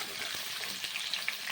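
Tomato, potato and taro sizzle and fry steadily in hot oil in a pan, a dense continuous crackle with occasional stirring scrapes, close and fairly loud with no voices.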